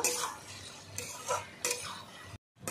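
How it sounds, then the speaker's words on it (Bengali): Malabar spinach greens stirred in an uncovered pan, with scattered clinks and scrapes of a utensil against the metal, low faint cooking noise beneath, and a brief silent gap near the end. "1 মিনিট 2 মিনিট ধরে ভালো করে নাড়িয়ে চাড়িয়ে নিলাম"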